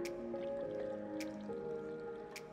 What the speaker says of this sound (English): she's gonna take the water and she is going to fill up the vase